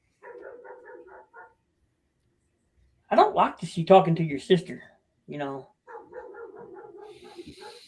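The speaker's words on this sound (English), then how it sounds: "My dog's going crazy." Dog barking in bursts at a house, with short yips between spoken lines; people talk loudly over and around it, the barks mid-level and partly masked by the voices.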